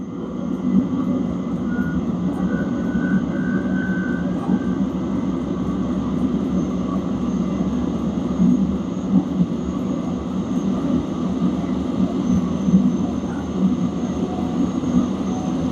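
A diesel heater runs at full output, blowing hot air with a steady, loud roar and whooshing fan hum that holds evenly from start to finish, with no voices.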